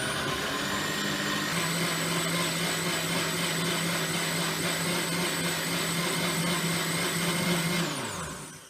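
An Optimum Nu blender pulses apple, cucumber and spinach into a smoothie, a loud steady motor whine with a high tonal hum running unbroken for several seconds before winding down at the end.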